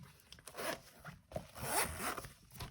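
A zipper on a Hobonichi planner pouch is pulled in several quick, scratchy runs, close and fairly quiet.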